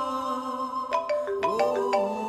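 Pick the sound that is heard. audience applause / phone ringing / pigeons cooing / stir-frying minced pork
phone ringing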